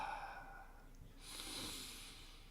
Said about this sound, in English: Breathing, relaxing.